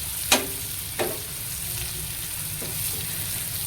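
Chilies fry in hot oil in a pan, giving a steady close sizzle with a few sharp spits and crackles rising above it.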